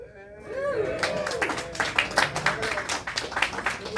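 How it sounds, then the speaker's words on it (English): Scattered, lukewarm clapping from a comedy club audience at a stand-up show, a thin patter of hands that swells briefly and stays fairly sparse, with a voice speaking over it at the start. "Judging by the not so excited claps, I should be stoked"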